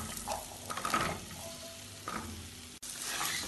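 Spices and diced potatoes stirred and sautéed in a pan for a Kerala sadya dish, with a steady close sizzle and scraping spoon strokes, no voices.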